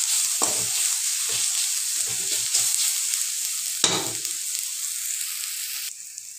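Spatula scraping and stirring an egg and flour mixture with chili powder in a frying pan, several distinct scrapes over a steady background sizzle.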